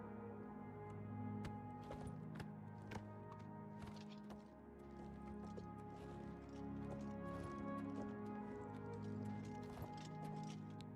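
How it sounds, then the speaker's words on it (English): Quick, regular hoof clip-clops from a horse in The Elder Scrolls IV: Oblivion Remastered, a steady run of taps over a constant background drone and music. "Let's hop on our horse."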